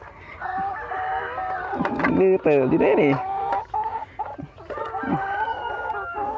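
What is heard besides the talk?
laying hens clucking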